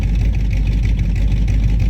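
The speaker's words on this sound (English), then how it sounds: "Probably stupid for me to be revving it up like that." A 1985 Mustang GT with a stroked 351 Windsor V8 and Cleveland heads runs loud and close, a steady, rough, deep rumble held at high revs for the whole stretch with no talk.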